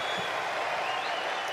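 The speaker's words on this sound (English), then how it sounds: "Crowd starting to get a little more involved." A tennis crowd at a United Cup women's match applauds in a steady, dense wash of clapping that holds evenly for a short stretch.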